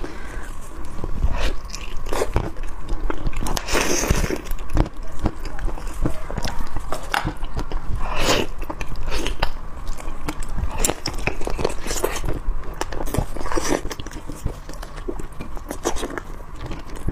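Someone biting and chewing a roasted pork trotter in a close-miked mukbang, with the trotter cooked in a casserole with potato flour. Wet, crunchy chews and bites repeat steadily and loudly throughout.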